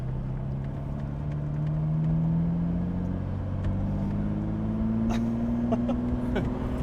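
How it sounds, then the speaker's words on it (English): A Lamborghini Diablo sports car, run after 14 years of sitting, idles steadily with a low, even rumble and slight pitch drift, close by, with faint clicks on top. "The car idles beautifully."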